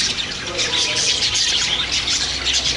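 Birds calling outdoors in Kerala, including a dove and parrots, a dense, bright chorus of chirps and squawks filling the scene without pause.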